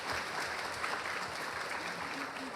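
Church congregation clapping during a Sunday worship service, a steady, moderately distant wash of applause lasting a few seconds.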